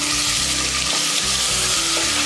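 Mustard seeds, urad dal and dried red chillies fry in hot oil with a loud, close, steady sizzle and crackle, and no voices are heard.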